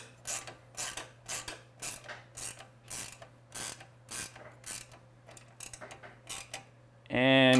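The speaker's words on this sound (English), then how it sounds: "you can just use a socket instead of my ratcheting wrench that I'm using here" A ratcheting wrench tightens a bolt during final frame assembly of a 2025 VRS 11, giving a close, rhythmic series of about a dozen quick clicking bursts, ending with a brief louder whirring spin.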